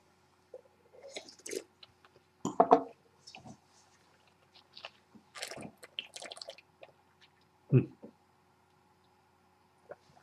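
Close, quiet sips and slurps of Fetzer wine being tasted, a series of short wet mouth sounds and swishes separated by silence, with one louder gulp near the end.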